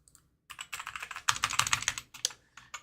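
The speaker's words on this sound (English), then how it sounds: "I am pushing keys." Computer keyboard keys pressed in quick irregular bursts during a broken Zelda: A Link to the Past PC port game, close and fairly loud, with clacking runs and short pauses, no voice.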